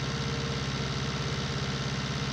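Ferguson tractor engine in Farming Simulator 19, chugging at a steady low idle-like drone with a regular knocking pulse and mechanical vibration, constant and close with no voices.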